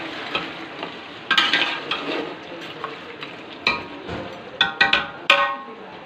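Fried beef with ground tomatoes sizzles in a pot as it is stirred, with repeated scraping and clinking of a spoon against metal over a soft crackle.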